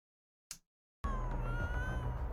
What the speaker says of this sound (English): Oh, look, a cat.